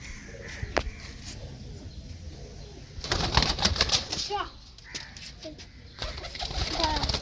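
Domestic pigeons, a breeding pair handled up close, give soft low cooing calls and bursts of wing flapping in a few short flurries, with people talking nearby.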